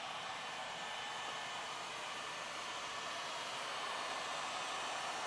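A hair dryer blows with a steady, constant roar, close and unbroken from start to finish, with no talking.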